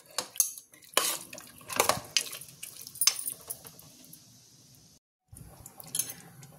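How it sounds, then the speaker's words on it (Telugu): Water is poured into a pan of chicken masala gravy with chopped coriander: metal clinks and clatters of pot and vessel with brief splashy bursts, close and fairly quiet, ending in a short silence and one more clatter. "కొద్దిగానే వాటర్ వేస్తున్నానండి"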